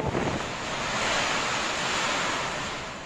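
Strong typhoon wind roars steadily along the coast at Looc, Occidental Mindoro, with surf crashing beneath it in a dense, continuous rush and heavy buffeting on the microphone.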